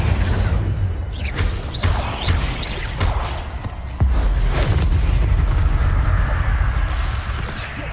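Incendio fire spell cast repeatedly in Hogwarts Legacy: loud bursts of flame with whooshes and booms, several sharp blasts over a roaring, continuous combat din.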